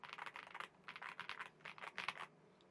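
Rapid typing on a Redragon K719 PRO gaming keyboard with crisp, clicky keystrokes in uneven bursts, fairly quiet and close, with no voices.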